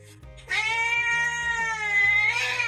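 A house cat gives one long, drawn-out meow that rises and wavers for about two seconds, close and clear with nothing else over it.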